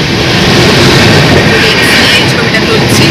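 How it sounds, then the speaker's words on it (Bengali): An overnight passenger train from Bangalore to Kolkata runs at speed, heard from beside an open door as a loud, continuous roar of wheels and rushing wind. "যে স্পিডে ট্রেন চলছে"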